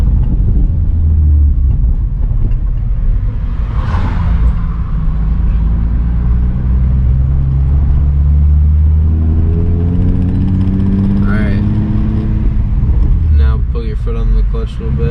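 Engine of a Nissan 350Z with a manual gearbox drones loudly from inside the car while driving, its pitch climbing steadily through rising revs and then dropping off, with speech over it.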